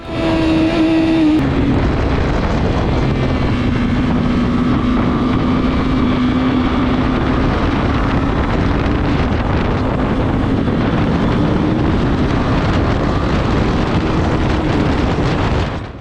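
Motorcycles at a track day on a NASCAR circuit's front straight, heard from the rider's seat as a loud, unbroken engine roar buried in heavy wind rush for the whole stretch.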